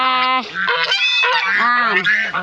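A goose honks loudly and repeatedly up close, harsh nasal calls overlapping in a rapid, agitated series.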